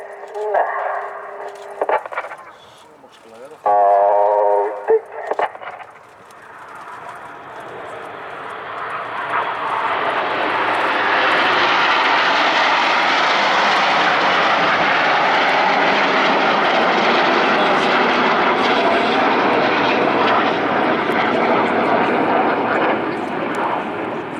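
RAF Red Arrows jets in display formation at RIAT 2025, a brief commentator voice and radio-like chatter at the start giving way to a loud, sustained jet roar that builds and holds steady overhead.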